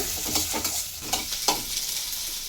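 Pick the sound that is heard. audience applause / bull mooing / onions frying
onions frying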